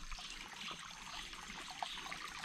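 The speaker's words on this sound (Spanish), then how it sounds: "Está la caída del agua" Small waterfall spilling at a clear spring in Cañón de la Virgen near Monterrey, a steady soft trickle and splash of water with a faint, continuous flow and no voices.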